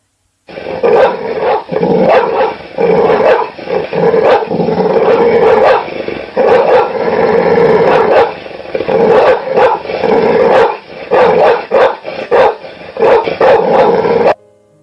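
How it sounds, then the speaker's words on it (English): A large dog at a cabin porch barks and growls loudly and close up, a continuous run of harsh, overlapping barks and snarls with brief pauses and no talk. "The dog burst into a barking, growling warning"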